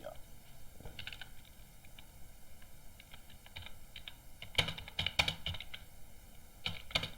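Typing on a computer keyboard while writing Java code in the Eclipse editor, with quiet scattered keystrokes early and denser bursts of key clicks later, close and soft.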